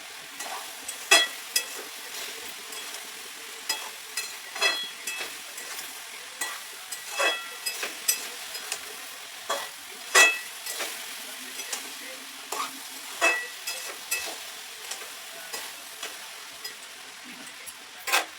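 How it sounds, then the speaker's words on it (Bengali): Pui shak (Malabar spinach) being stirred and fried in a pan: soft steady sizzle punctuated by repeated sharp scraping strokes of a utensil, roughly every second, close and moderately loud. "এভাবে একটু নাড়াচাড়া করে এটাকে একটু ভাজিয়ে নিতে হবে।"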